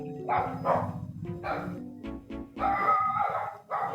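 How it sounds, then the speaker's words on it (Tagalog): Several dogs bark in bursts in the game Minecraft over a busy game background, repeated barks close together and fairly loud. "Ayun ang mga aso."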